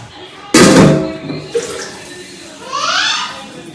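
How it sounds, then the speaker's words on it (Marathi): Cold water is poured in a sudden splashing gush that fades out, followed by brief clatter and a voice in the background, while cooking a wild leafy vegetable. "त्यात थंड पाणी टाकून"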